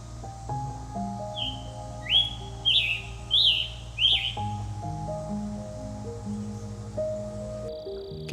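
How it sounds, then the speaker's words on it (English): A scarlet tanager sings high in trees along a preserve trail, giving a short series of about four bright, warbling phrases at moderate distance over a steady low hum of ambient noise. "These birds have a beautiful song that fills the trees in the spring and summer months."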